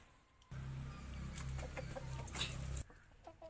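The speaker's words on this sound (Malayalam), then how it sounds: "ചിന്ന കോഴിമുട്ട ഇട്ടു കേട്ടോ" A hen clucks faintly in a short burst after laying an egg, over a low, noisy background hum, with no voices.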